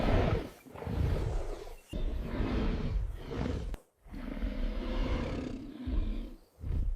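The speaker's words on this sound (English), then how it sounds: "With a roar, the attack began." Dinosaurs roar as a hunting pack attacks a herd: deep, growling roars come in several long bursts separated by short gaps, loud and close.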